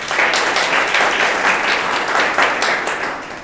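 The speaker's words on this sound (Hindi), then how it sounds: "अब बजाओ जोरदार ताली।" A seated audience at a network marketing distributor training program claps loudly and steadily, a dense close roar of applause that tapers slightly toward the end.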